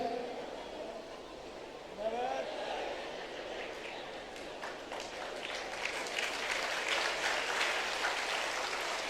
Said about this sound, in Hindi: मेरी बारी आई तो तालियां बज रही हैं